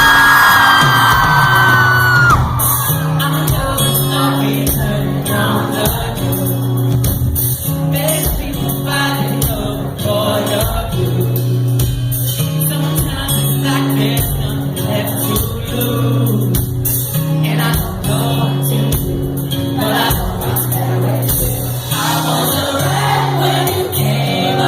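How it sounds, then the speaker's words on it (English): A concert crowd at a show in San Francisco screams, whoops and cheers continuously, a loud, dense roar of many voices blended with booming live music throughout. "everyone just screaming, having a good time and jumping and stuff"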